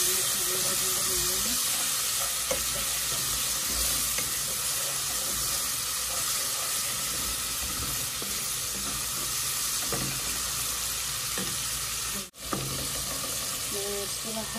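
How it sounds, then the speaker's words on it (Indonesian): Garlic and onion sauté in hot oil, a steady broadband sizzle and hiss that runs close and continuous with small stirring clatters, briefly cut out near the end. "Kita taruh bawang putih, bawang bombay, kita tumis sampai layu berubah warna dan harum berminyaknya"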